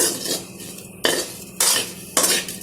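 Okra being stirred with rock salt in a pan, a metal spoon scraping and clattering against the pan in several distinct strokes over a low background hum, with no talking.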